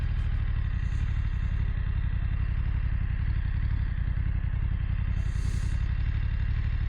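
A BMW F900R two-cylinder motorcycle ridden on a road, with a steady engine drone and strong wind rush throughout, holding an even loud level with no clear revving.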